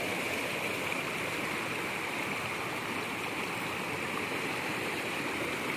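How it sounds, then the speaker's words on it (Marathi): A small river stream flows over a shallow crossing during a dry monsoon spell near a village dam, making a steady, dense rushing and gurgling wash that stays constant and close throughout, with no voices. "ही छोटीशी नदी आहे, ती ओलांडायचं आहे आपल्याला"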